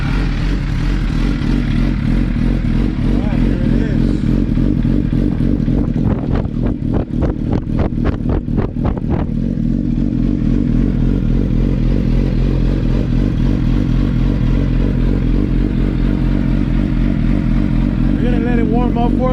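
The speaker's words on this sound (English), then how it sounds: "We're gonna do a cold start, so you can hear the sound of this beautiful exhaust" Suzuki GSX-R motorcycle fitted with an Arata Delta 1 full racing exhaust, cold-starting: a rattling crank and catch, then a loud, lumpy idle that settles into a steady burble, with a voice talking over it.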